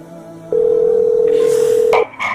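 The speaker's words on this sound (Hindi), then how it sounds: "जल्दी तस्मिया दीदी को फोन लगाओ" A single steady telephone dial tone sounds loud and unbroken for about a second and a half, followed by a brief higher beep as the call connects, with no speech over it.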